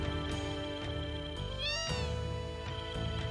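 Cats meow continuously in a video game, many overlapping looped cries layered over a steady droning game soundtrack, one rising wail standing out midway, with no talk.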